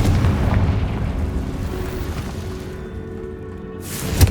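Confringo blasting spell going off in the video game Hogwarts Legacy: a heavy booming explosion with rumbling low-end debris that slowly fades, then another sharp burst at the very end.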